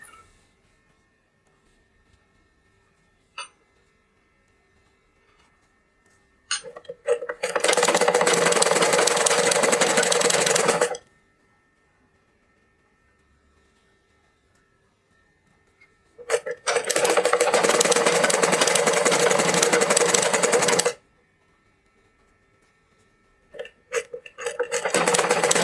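A sewing machine stitches a petticoat stripe in two long steady runs of fast, even needle chatter, separated by quiet stretches with only faint handling clicks, and a third run starts at the very end.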